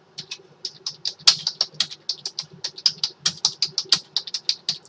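Rapid, uneven keystrokes on a computer keyboard as code is typed, close and clear, with crisp clicks in quick bursts and brief pauses, no voices.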